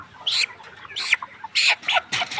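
Sick layer hens with watery, swollen eyes cluck in several short, sharp bursts, four or five calls spaced unevenly and heard close by, with no talking.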